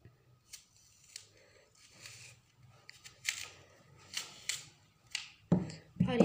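Knife cutting into an apple on four sides, a series of faint crisp slicing and crunching clicks at irregular intervals, close up and quiet, with a louder thud near the end.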